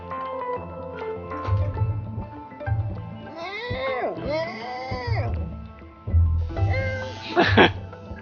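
Cartoonish cat meows rise and fall several times in the point-and-click game Machinarium, set against a plucked background tune, while someone talks over the scene.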